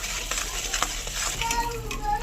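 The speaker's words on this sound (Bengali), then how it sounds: "এটা নাড়তে নাড়তে চিনির কালারটা কত সুন্দর চেঞ্জ হয়ে যাচ্ছে।" Sugar caramelizing in a pan with a little water while being stirred, a soft bubbling sizzle with scraping stir strokes and faint clinks throughout.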